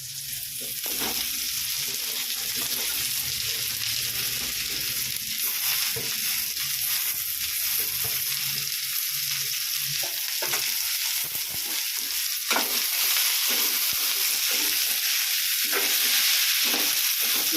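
Broad beans sizzle and fry in a pan for a poriyal stir-fry, with a continuous hiss and occasional scraping and stirring clatter, close and steady with no talk.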